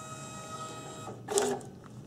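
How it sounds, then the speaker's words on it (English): A visitor badge printing from a small label printer at a visitor check-in station, heard as a brief whirring feed burst after steady quiet mechanical hum, moderately close. "The badge will print out of the printer."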